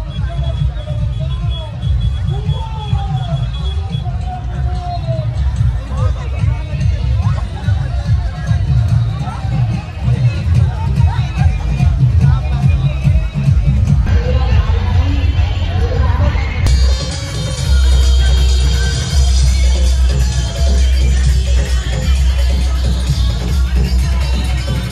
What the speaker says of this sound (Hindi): आप लोग देख सकते हैं कितनी भयानक यहाँ पर भीड़ लग चुकी है।